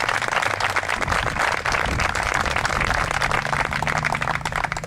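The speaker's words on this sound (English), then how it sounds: "Randy, you deserve a round of applause for all the time that you've put in." At a groundbreaking for the MYBA sports complex, an outdoor audience applauds, a loud, continuous and dense clapping that holds steady for the whole stretch.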